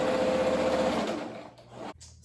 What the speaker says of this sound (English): I'm gonna turn this inside out and sew down the sides